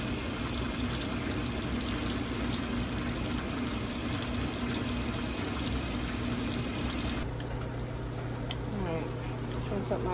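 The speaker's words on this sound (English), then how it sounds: "Y'all should be used to the washing and drying in the background by now." A washing machine and dryer run throughout as a steady, dense, rushing drone at a constant level, with a slight shift in tone near the end and no clear talk over it.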